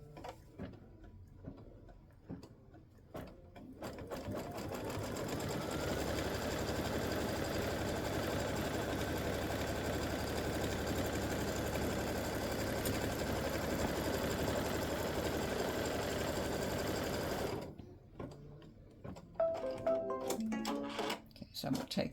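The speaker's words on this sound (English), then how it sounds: "now it's going to stitch the seam allowance" Sewing machine stitching the seam allowance through layered fabric for a quilted mug rug, a steady close mechanical whir running unbroken for about twelve seconds, with quiet handling noises and some talk before and after.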